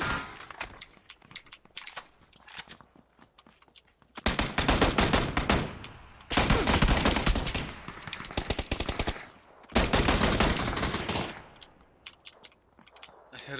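Automatic gunfire in PlayerUnknown's Battlegrounds, loud rapid bursts arriving in three long volleys separated by quieter stretches of scattered distant shots.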